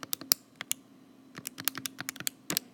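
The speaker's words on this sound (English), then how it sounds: "you're going to type exactly what we just wrote" Calculator buttons pressed one after another on a graphing calculator while entering a normal CDF probability, giving a series of sharp, close plastic clicks in two bursts separated by a short pause.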